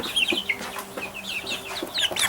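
Eight-week-old Polish crested chicks cluck and chirp close by, a busy overlapping chatter of short calls from several birds, with no voices.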